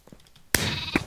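Sheep bleating in the Minecraft game: a quiet low murmur, then a sudden loud synthetic bleat followed by a second short bleat, close and clear, with no talk.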